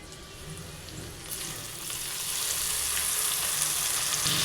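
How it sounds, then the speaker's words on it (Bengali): Chopped tomatoes hit browned onions in hot oil, and the frying hiss swells from moderate to a loud, dense, steady sizzle that holds to the end without speech. "এবার টমেটো কুচিটা দিয়ে দেব।"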